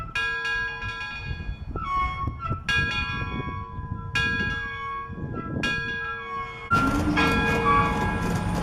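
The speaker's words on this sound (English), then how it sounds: "and even ring the locomotive's bell" A locomotive's bell in Bartlesville, Oklahoma, ringing in slow, regular strokes about every second and a half, loud and close with a long ring after each strike, then a burst of broad noise near the end.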